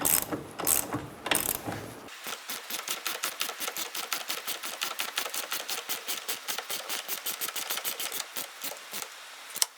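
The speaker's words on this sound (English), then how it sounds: "we're going to torque it to 60 foot-pounds" A ratchet wrench tightens a bolt on the rear shock mount of a 2004-2009 Mazda 3, first with a few loud clunks, then a long, steady run of quick, close, crisp pawl clicks.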